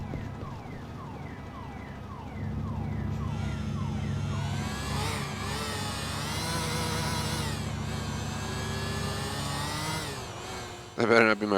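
A car alarm in Grand Theft Auto IV wails with rising and falling siren tones, steady and fairly loud over game background noise, while a voice talks over it.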